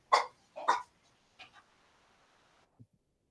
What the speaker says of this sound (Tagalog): sorry po yung aso ko